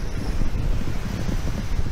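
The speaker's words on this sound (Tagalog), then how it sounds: "ang lakas ng hangin." Strong wind gusts buffet the microphone outdoors at the Pullman Saigon Centre hotel, a close, steady rumbling roar lasting about two seconds with no voices.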